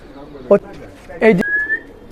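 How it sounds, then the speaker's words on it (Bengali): A blue checker pigeon lands and calls in two loud, close coos, one short and one longer, followed by a thin whistling tone in an otherwise quiet setting. "এটাও ব্লু চেকার এসে ডাকাডাকি করতেছে"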